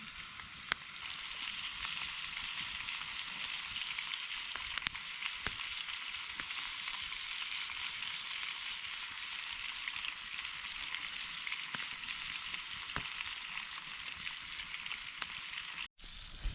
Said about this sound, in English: we've got the steaks on the fire